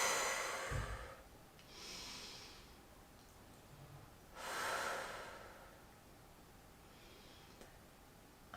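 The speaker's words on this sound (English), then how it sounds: "Just take a few easy breaths here." Slow, easy breathing during a restorative yoga pose: three or four soft, airy inhales and exhales spaced a couple of seconds apart, close and quiet, with nothing else heard.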